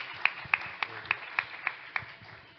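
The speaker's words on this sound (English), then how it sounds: "Can we have a round of applause for him, please?" Seven sharp, evenly spaced hand claps ring out over a low murmur at a sustainability conference, too sparse and regular to sound like a full crowd.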